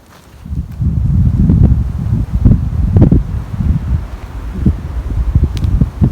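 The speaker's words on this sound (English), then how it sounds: "Now it is extremely windy up here on this high mountain." Strong wind on a high mountain overlook at Breaks Interstate Park, Kentucky, buffets the microphone in rough, gusting rumbles that rise and fall continuously, with occasional rustling and thumps.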